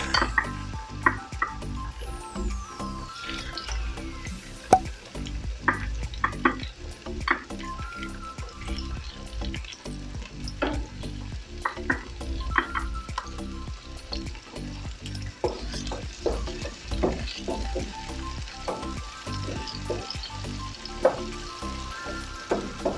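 Tomatoes fry with salmon belly in a hot pan, a steady loud sizzle broken by frequent clinks and scrapes of a utensil stirring against the pan.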